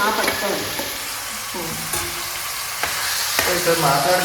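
Mutton pieces dropped into hot oil in a curry pan, loud crackling sizzle with stirring scrapes and clinks running throughout, no voices.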